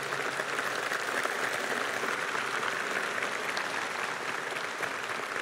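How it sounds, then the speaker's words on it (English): After a debate on the existence of God, the hall audience gives the two debaters another round of applause, a continuous, fairly distant patter of clapping that holds evenly throughout. "Ladies and gentlemen, I want to give Richard and Dan another round of applause."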